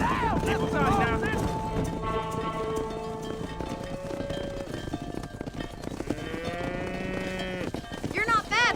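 A cattle herd lows repeatedly during ranching in Red Dead Redemption on PS4, several overlapping moos near and far over hoof clops, with speech mixed in between the calls.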